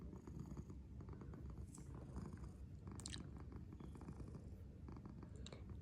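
A sensitive, upset cat purrs close up while being petted, a low continuous rumble with soft rustling and light chewing-like sounds mixed in.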